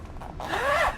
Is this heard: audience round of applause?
no